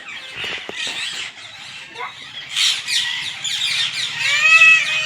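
Several parrots squawk and squeal in a noisy, overlapping chorus that grows busier and louder toward the end, with shrill calls following one another close by.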